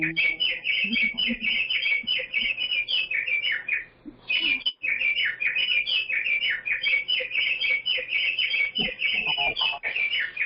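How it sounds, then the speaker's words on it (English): A bird clock chiming with recorded birdsong: bright, rapid chirps and tweets repeat almost continuously, loud and close, with a brief break partway through and faint low murmuring beneath. "That's my bird clock."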